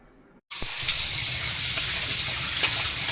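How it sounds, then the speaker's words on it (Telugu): Two tomatoes being washed under running tap water, a steady hiss and gush of flowing water that starts abruptly after a brief pause and carries on evenly. "ఇవి కూడా ముందు శుభ్రంగా కడుక్కొని"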